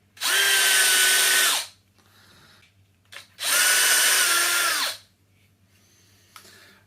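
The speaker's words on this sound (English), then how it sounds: "So we are going to commit surgery on a rubber bung." A power drill whines loudly in two long bursts, its pitch sagging as it bites into a rubber fermenter bung for home brewing, with quiet pauses and small clatters between.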